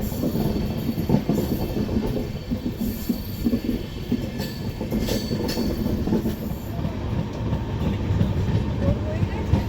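An Amrit Bharat Express train leaving Anand Vihar rolls along the tracks with a continuous rumble and rhythmic clatter of wheels, some faint squeals, moderately distant.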